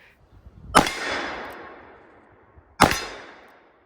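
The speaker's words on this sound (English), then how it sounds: "he's got a 44 Magnum with hand loads on his hip, and I hate shooting this because of the recoil" .44 Magnum revolver firing hand loads at an outdoor range, two sharp loud shots about two seconds apart, each followed by a long fading echo.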